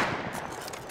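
Gunfire from the Rust video game, with a modded server setting inside a large drilling rig, sounds as a dense, continuous burst of shots through the whole short moment, loud and near with no talk over it.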